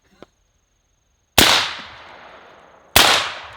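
Two suppressed gunshots fired into a carved Halloween pumpkin, sharp loud cracks about a second and a half apart, each with a short decaying tail, after a faint small click.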